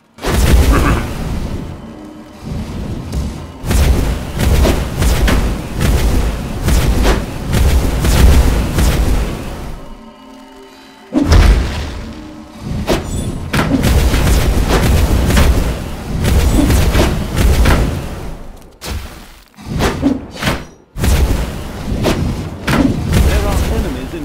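Heavy booming blasts from frost bombs in the dungeon-building game Dungeons 3 on Xbox One come in dense bursts with brief silent gaps, loud and close, alongside game chatter and a voice talking.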